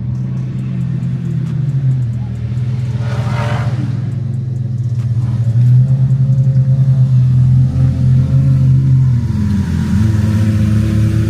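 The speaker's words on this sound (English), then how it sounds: "Man, nothing like that SVJ sound." A Lamborghini SVJ engine idles with a deep, loud rumble, then revs up sharply and holds a high, steady roar close by, with no talk over it.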